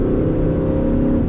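Four-cylinder engine of a 2019 Jeep Cherokee accelerating, heard from inside the cabin as a loud, steady drone that holds strong through the short clip, with no talk.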